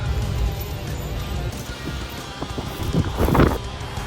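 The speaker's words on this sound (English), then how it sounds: "it is super windy right now" Strong wind roars outdoors beside open house signs in the Anasazi Village area of Phoenix, Arizona, a steady low rumble of buffeting gusts against the microphone with faint knocks and rattles, swelling toward the end.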